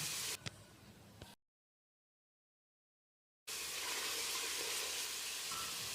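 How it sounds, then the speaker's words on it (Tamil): Tomatoes sautéing in a pan for Muslim-style mutton biryani give a steady, hissing sizzle, close and moderately loud, broken by a couple of seconds of complete silence before the frying resumes. "தக்காளி நல்லா மசிகிற அளவுக்கு வதங்கிருச்சு"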